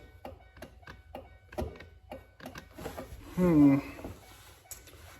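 The window regulator motor inside a C6 Corvette door makes a rapid run of dry ticks, evenly spaced and close, followed by a brief whirring hum. Faint voices can be heard in the background.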